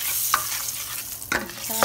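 Oil being stirred through rice bowl ingredients in a pan, a quick burst of spatula scrapes and clanks over a soft background sizzle, close and clear with no talking.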